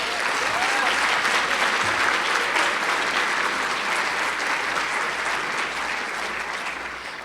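Sustained applause from a large audience at a university symposium morning address, dense and steady clapping filling the hall at full strength for the whole stretch, fading slightly toward the end.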